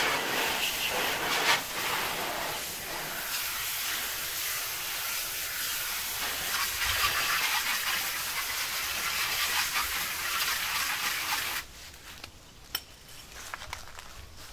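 A water spray rinsing a car's wheel well and wheel, a steady loud hissing rush of water that runs continuously before cutting off abruptly near the end, followed by quiet with a couple of small knocks.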